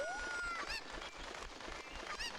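A chicken in Ocarina of Time gives a couple of quick rising squawks and clucks amid a busy game soundscape, moderately loud and brief, with no speech.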